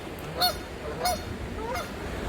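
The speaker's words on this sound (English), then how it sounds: "Hey, geese." Three clear goose honks ring out by a canal in a state park, spaced about half a second apart, fairly close and distinct over quiet outdoor ambience.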